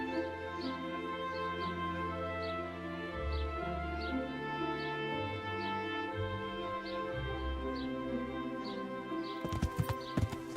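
Hooves clip-clop in an even, steady rhythm over a droning musical background in the video game Kingdom Come: Deliverance, ending with a burst of clattering noise.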